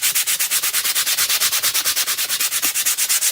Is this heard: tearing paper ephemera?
no